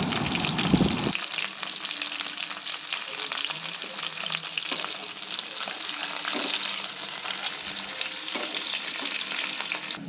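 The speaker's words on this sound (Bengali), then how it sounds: "নাড়িয়ে নিয়ে এবার এর মধ্যে পেঁয়াজ আর ক্যাপসিকামটা দিয়ে ভালো করে ভেজে নেব।" Onion and capsicum frying in a pan with ginger and garlic, a loud continuous sizzle with scraping stirring sounds throughout, close and with no talk.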